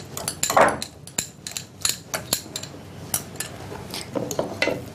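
Ingredients with canned tuna being mixed in a dish, with repeated clinks and scrapes of a utensil against the bowl in an irregular rhythm, close and fairly clear, with no talking.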